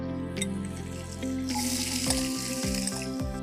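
A steady sizzle of chopped onion frying in hot oil after mustard seeds and curry leaves, with a soft clatter of stirring near the end.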